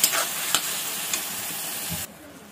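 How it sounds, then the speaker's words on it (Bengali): Ginger-garlic-chili paste sizzles in a frying pan while being stirred, with a few quick scrapes over a bright hiss that cuts off abruptly after two seconds. "আদা রসুন মরিচ বাটাটা দিয়ে দেব অল্প নাড়াচাড়া করে"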